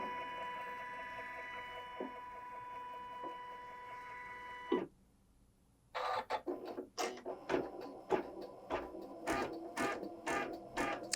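A Janome embroidery machine hums steadily up close, falls briefly silent, then starts stitching with a fast, even run of sharp mechanical pulses.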